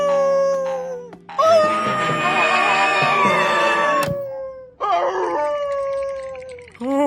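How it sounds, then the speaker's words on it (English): A long, eerie canine howl rises and wavers in a cartoon scene, loud and sustained, breaks briefly, then returns for a second drawn-out wail. "Was that the hideous howl of the undead?"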